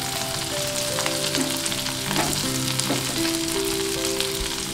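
Vegetables and boiled peas fry in a pan with a steady, dense sizzle, close and even, broken by a few faint stirring scrapes and a low tonal hum in the background.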